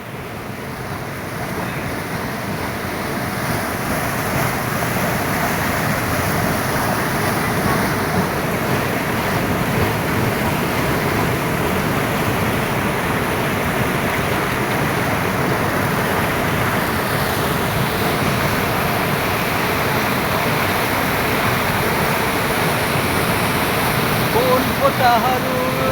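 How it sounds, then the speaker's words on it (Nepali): Fast-flowing stream water rushes steadily in a continuous broadband roar, loud and close, with no pauses across the whole stretch. "बगाए यो खोलाले बगाउला जस्तो छ है"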